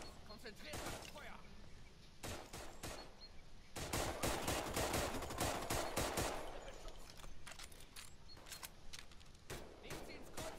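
Rapid bursts of automatic gunfire and scattered single shots crackle through a World War II firefight in Raid: World War II, loud and dense, with shouted voices mixed in.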